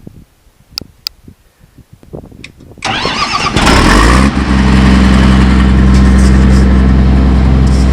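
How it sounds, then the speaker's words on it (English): A farm grinder engine cranks and catches after a few quiet knocks and clicks, then settles into a loud, steady mid-pitched running drone close by. "Grinder. So we're going to start that up and see how it does."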